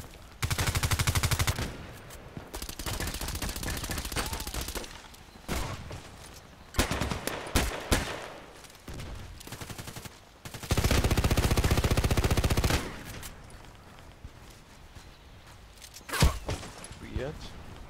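Machine gun fire in a shooter video game comes in several loud sustained bursts separated by pauses, with a voice speaking between the volleys.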